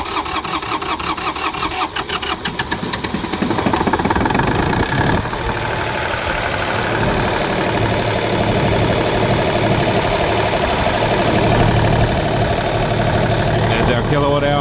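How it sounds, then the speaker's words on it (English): A Lister Petter Alpha LPA3 three-cylinder diesel generator rated 7 kVA cranks with rapid rhythmic starter pulses, then catches and settles into a loud, steady, continuous run close by. "Give it a glow, then it'll crank till it gets oil pressure and away it'll go."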